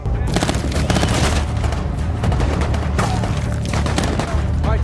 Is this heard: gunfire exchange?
yes